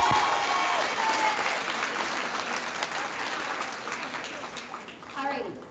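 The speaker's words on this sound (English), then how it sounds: "Let's give our straight A recipients a round of applause." An audience at a 5th grade ceremony applauds straight A recipients with sustained, dense clapping from a crowd. A few voices and brief cheers rise over the clapping near the start and the end.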